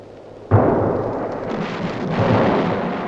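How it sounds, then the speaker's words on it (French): A WWI artillery bombardment before an infantry attack: a sudden heavy boom, then a continuous rumbling roar of distant guns firing. No speech is present. "La préparation d'artillerie."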